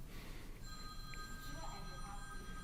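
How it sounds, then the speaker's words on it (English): A mobile phone rings during a hall talk on North Kingstown and the Revolution, its steady electronic tones running through the whole stretch over a noisy room. "I did, but my phone rang too."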